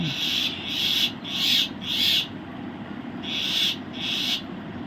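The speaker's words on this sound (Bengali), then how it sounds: "ঘুঘু পাখি আর হচ্ছে গিয়ে শালিক পাখি" Doves and mynas call in repeated bursts of high chirping, several short phrases with brief pauses, over a steady low background rumble.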